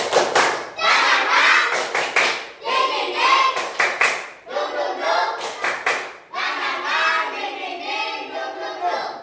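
Children performing a rhythmic clapping chant, tepuk semangat, in bursts of sharp claps alternating with group chanting voices, loud and close, with short pauses between phrases.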